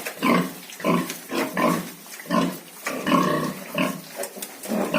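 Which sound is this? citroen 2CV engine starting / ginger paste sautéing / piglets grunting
piglets grunting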